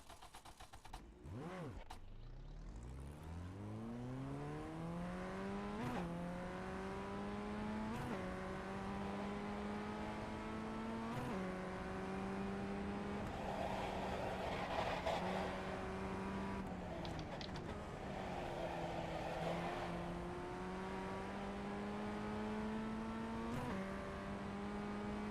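A race car engine in the iRacing sim game fires up and revs, rising through gears in repeated climbing whines with brief shifts, steady and close, alone without talk.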